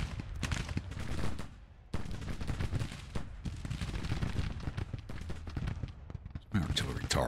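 Repeated artillery and gunfire bursts from a Grand Tactician: The Civil War battle, loud and dense, with sharp blasts breaking in near the start, around two seconds and again near the end, while a voice talks over the bombardment.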